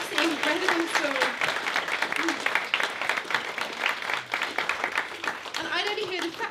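An audience gives Katy a round of applause after her performance, steady clapping throughout, with voices audible over parts of it and a speaking voice near the end.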